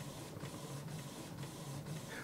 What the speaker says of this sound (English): Come on, printer.